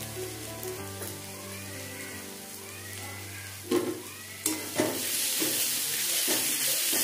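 Ginger garlic paste hitting golden fried onions in hot oil for a mutton and potato curry, a steady sizzle and hiss that swells with a few stirring scrapes near the end.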